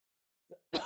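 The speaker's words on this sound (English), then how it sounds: "I've just been coughing in a microphone" A single person gives two quick coughs close into a microphone, a short soft one followed by a louder, harsher burst, in otherwise silent surroundings.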